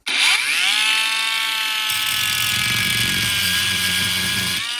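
A Lidl Parkside Performance angle grinder spins up with a high whine and then bites into an offcut of steel box section held in a vise, a loud continuous scream close by before winding down at the end.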